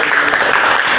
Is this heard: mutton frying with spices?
no